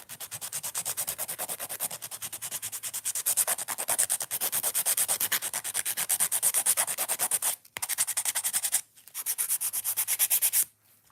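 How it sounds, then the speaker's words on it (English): A rough hand nail file rasps quickly and steadily over fingernails in rapid back-and-forth strokes, close and loud, with two brief pauses near the end. "that's a rough hand file"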